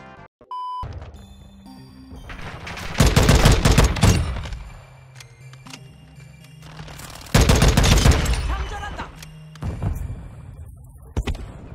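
M16 rifle fire in Call of Duty Modern Warfare II (2022) comes in two loud, close bursts of rapid shots with quieter game sounds in between, and a few more shots near the end.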